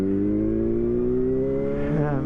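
A Yamaha R1 sport motorcycle rides along icy roads after a major snow storm, its engine droning steadily and close, with pitch slowly climbing as it accelerates.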